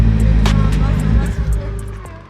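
Corvette engine revving loudly and close as a six-year-old presses the gas pedal, a steady roar with swells, while people chatter around it.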